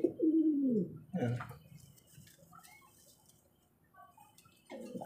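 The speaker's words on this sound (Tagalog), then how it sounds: "napakagandang ibon." A pigeon coos twice in close succession, rolling and throaty, then pauses amid faint rustling before starting another coo, near and clear in a quiet setting.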